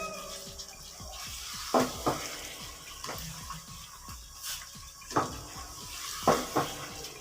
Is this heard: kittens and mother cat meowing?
no